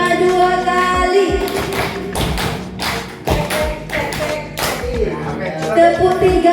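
A school class claps out a rhythmic pattern in unison, sharp group hand claps grouped in short bursts, with teacher's voice and music-like tones underneath.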